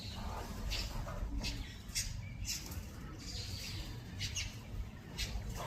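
Outdoor birds chirp in short, scattered tweets at a moderate distance over low rumbling background noise, with faint talk in places.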